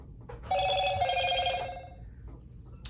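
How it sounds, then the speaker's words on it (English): A phone rings with a bright electronic tone, a single sustained burst lasting about a second over quiet room noise, then stops. "this is this other phone going off"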